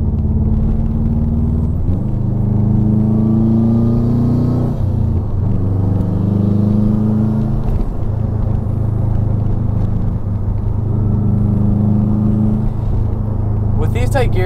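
A JDM Subaru WRX STI V7 with a 6-speed gearbox accelerating, heard from inside as a loud, steady engine drone that climbs in pitch through the tight gears, with breaks at the shifts and a voice talking over it.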